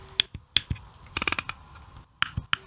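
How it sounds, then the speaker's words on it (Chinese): The multifunction knob on an Edifier MR5BT desktop monitor speaker turns with crisp, sharp detent clicks, heard close up in small irregular clusters with short pauses between them. "这是 MR5BT 的多功能旋钮，旋转的段落感明确，声音清脆"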